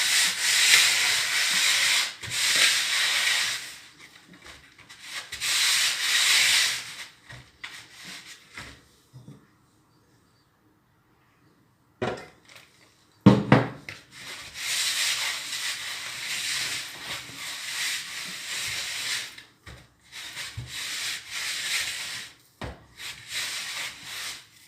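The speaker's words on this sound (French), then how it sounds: "on va terminer de travailler la pâte" Bread dough for homemade matlouh flatbread being worked by hand, with lukewarm water added as it goes, giving bursts of broad soft slapping and rubbing that stop and start, with a quiet pause midway.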